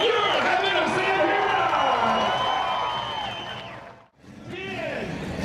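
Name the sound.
crowd cheering and applauding monster truck drivers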